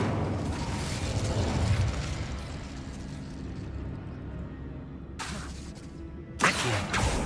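Incendio fire spell cast in the video game Hogwarts Legacy, a loud sustained whooshing burst of flame and rumble that rolls on for several seconds before a sharp second blast near the end.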